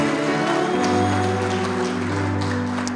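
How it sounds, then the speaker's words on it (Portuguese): A church congregation claps together in a sustained, dense wash of applause, with a low held musical tone running beneath it. "Aplaudam ao Senhor mais uma vez."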